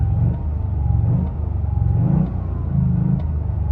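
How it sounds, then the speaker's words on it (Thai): Toyota GR Yaris turbocharged engine running with a soft, deep hum, steady low rumble rising and falling in gentle rev swells, close and moderately loud with no talking. "มันก็เหมือนกับ รถ ยุโรปที่มีเครื่องเทอร์โบ ทั่วๆไปนะครับ เสียงจะค่อนข้าง นุ่มทุ้มหน้าฟังนะครับ"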